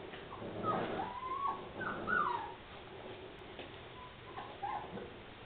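Month-old puppies whimper, yip and squeal while wrestling roughly, with several short high whines and scuffling over a quiet indoor background.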